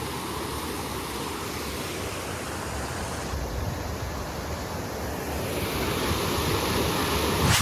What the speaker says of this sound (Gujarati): પાણીનો અવાજ જ એવડો આવે છે